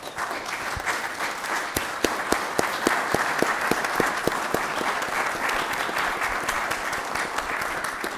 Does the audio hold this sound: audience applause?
yes